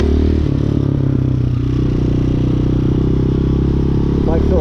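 A Hawk 250cc motorcycle rides along with a loud steady engine drone and heavy wind buffeting, constant throughout with some rattling clatter.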